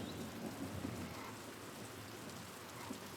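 Heavy rain pouring in Pentiment, a steady dense hiss of falling water, even and continuous, quiet and heard alone.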